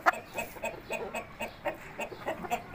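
Hens clucking close by in a short, busy burst of repeated calls, several birds overlapping over a faint farmyard background.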